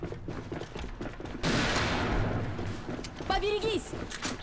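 Sniper rifle shots traded during a competitive esports match of the shooter game Alliance of Valiant Arms on a map, loud gunfire bursts with a sharp blast mid-clip, mixed with game noise and caster talk.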